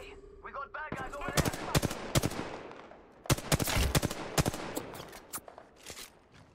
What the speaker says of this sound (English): I'm spotted. Taking fire. Taking fire.